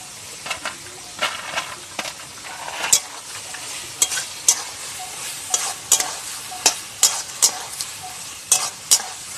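Pre-fried vegetables tossed into hot oil and spices for Bengali shukto sizzle steadily while a spatula scrapes and taps the pan in quick, repeated strokes, close and fairly loud.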